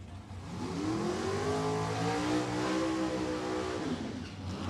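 Super Gas drag race cars, a 1986 Forenza against a 1963 Corvette Roadster, rev and accelerate at a drag strip, their engine notes rising and falling in a sustained, moderately distant roar.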